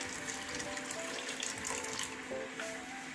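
Heated water poured from a container into a pot of sautéed squash, a faint, steady trickling and splashing with light clinks, quiet and close, with no talking.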